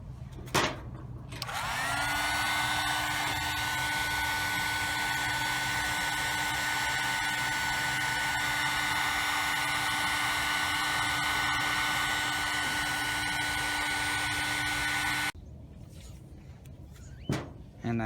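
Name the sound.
heat gun shrinking heat shrink tubing on car wiring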